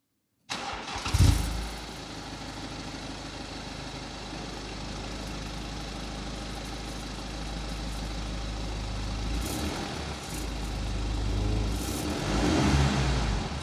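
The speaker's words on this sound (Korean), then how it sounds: "순정 배기음." A stock-exhaust BMW 320d F30 M Sport diesel fires up with a sharp start and settles into a steady, close idle. Near the end it revs up briefly, swelling louder, with no one talking.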